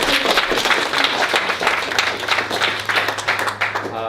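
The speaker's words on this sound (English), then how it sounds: "Clap it up for him real quick." An audience claps together, a dense, rapid patter of hands that stays steady and fairly close for a few seconds, with a low hum underneath.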